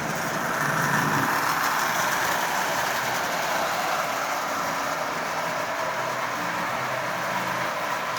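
A Marx 994 toy train locomotive with a double reduction motor and bent axle runs on a track, giving a steady, loud mechanical whirring and rattling drone that continues throughout with no voices.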